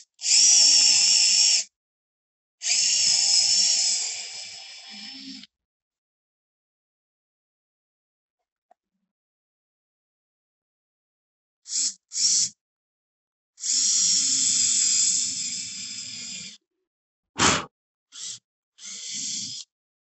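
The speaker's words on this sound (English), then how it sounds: "drilling the holes is pretty slick and quick" A drill whirs in several bursts of a few seconds each, boring peg holes into a wooden window sash joint, close and fairly loud, with short quiet gaps between runs.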